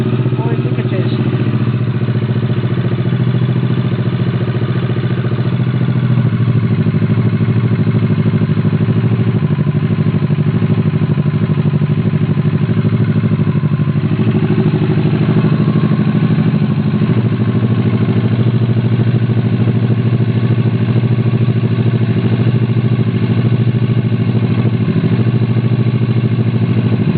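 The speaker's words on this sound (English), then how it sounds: "motorcycle's on." A Kawasaki Vulcan S motorcycle engine idles steadily after an oil change, a low, even rumble running continuously throughout with light mechanical clatter and occasional speech over it.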